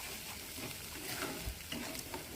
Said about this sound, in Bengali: তারপর দিয়ে দিলাম পেস্ট করে রাখা ঝিঙের খোসা বাটাটা দিয়ে ততক্ষণ নাড়তে হবে যতক্ষণ না জলটা শুকিয়ে যাচ্ছে আস্তে আস্তে করে